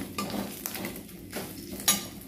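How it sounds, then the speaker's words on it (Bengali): Grated ginger frying in a pan on a home gas stove, a steady close sizzle and hiss running throughout, broken by a few sharp clinks and scrapes of a utensil stirring against the pan, with no talking. "আদা ঘষেছি, আদাটা ভাজছি"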